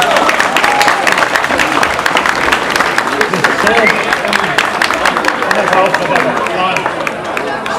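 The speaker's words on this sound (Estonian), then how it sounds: "Aplaus!" Audience applause after a performance, dense, loud clapping from a large crowd, sustained and even throughout with a faint murmur of voices underneath.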